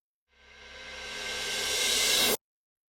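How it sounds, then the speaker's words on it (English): A reversed cymbal swells up from silence, its bright hiss growing steadily louder for about two seconds before stopping abruptly at its peak. "And I just took that and reversed it here."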